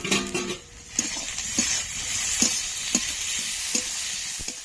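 Chopped tomatoes go into a pan of frying marinated chicken, set against a steady sizzle. Intermittent scraping stir strokes land about once a second, close and clear, and no one speaks.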